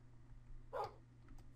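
A single short bark from a freshly tamed wolf dog in Minecraft, faint and brief against a low steady hum.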